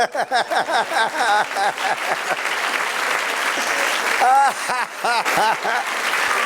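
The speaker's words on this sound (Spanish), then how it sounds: "dale un aplauso al Señor" Church congregation clapping in loud, sustained applause, with a raised voice carrying over the clapping.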